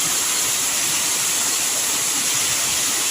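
Broadband roar of a waterfall, steady and loud, filling the whole stretch without any voices.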